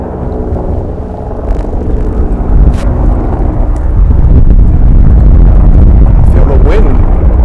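Strong wind buffets the microphone outdoors on Inauguration Day 2021 in the United States, a loud continuous roar and rumble that swells toward the end.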